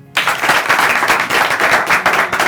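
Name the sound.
studio audience applause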